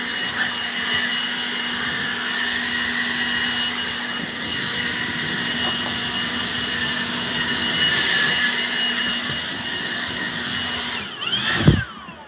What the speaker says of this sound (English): Wow, I love leaf blowers.